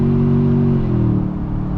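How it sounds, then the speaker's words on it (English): A 2022 Toyota Tundra TRD Pro's exhaust drones steadily with a low, resonant hum that shifts pitch slightly, echoing inside the Eisenhower Tunnel. "You can hear the exhaust of the TRD Pro."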